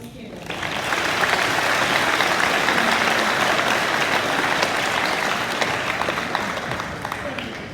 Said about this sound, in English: And if you would, give a round of applause for these students.